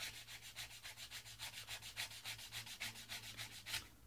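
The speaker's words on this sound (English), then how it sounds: "take a little bit of sandpaper, because if you put a square edge onto a curved edge, you're going to get a line. But if you were to just rub that down" Sandpaper rubbed back and forth along an edge on a model seaplane build, giving a steady rhythmic scratching of about twenty quick close strokes, quiet and with no talking.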